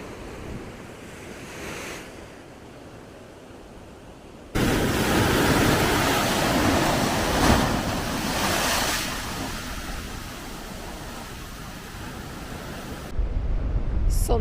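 Large sea waves crash and surge along the Aberystwyth coast in Wales, a loud, continuous roar that swells midway, mixed with strong wind buffeting the microphone.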